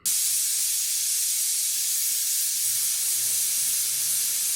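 A pressure cooker cooking haleem lets off a continuous loud hiss of escaping steam, steady and unbroken from start to finish.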